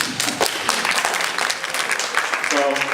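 An audience applauds at a public meeting on short-term rentals. The scattered, steady clapping fills the room, and a voice begins speaking near the end.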